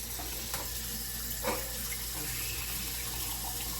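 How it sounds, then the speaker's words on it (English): Water from a kitchen tap runs steadily over a dish being quickly rinsed, a close and constant hiss with small splashes and knocks throughout. "I'm just quickly washing this"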